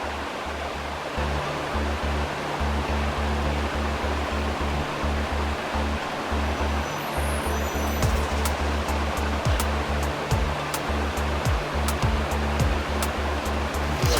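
Steady rushing water fills the scene, a broad continuous wash like a stream flowing over rocks nearby, with no voices.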